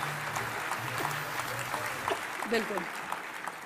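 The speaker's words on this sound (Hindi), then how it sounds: "तो एक जोरदार तालियां मेरे सारे अपलाइन के लिए" An audience applauds at a Safe Shop business gathering, a sustained clatter of clapping running beneath someone speaking Hindi into a microphone.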